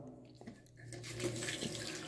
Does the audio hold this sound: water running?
yes